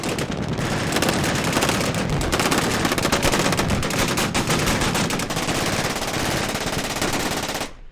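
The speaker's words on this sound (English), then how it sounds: "the caliber of the bullet hitting the hill is making like a firework level explosion" Sustained, dense gunfire from large-caliber guns at a crowded outdoor shooting range, with rapid overlapping shots and booming impacts merging into a continuous loud roar for the whole stretch.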